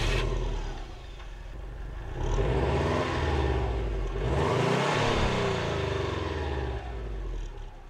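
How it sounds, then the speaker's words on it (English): A 2002 Subaru WRX with an EJ boxer engine and unequal length headers gives off a deep, uneven exhaust rumble that rises and falls through a couple of revs, close and steady, with no voices. "with the EJ engines and the 2002 and all the way up to the 2014 WRXs and then the STIs, you get that deep boxer rumble"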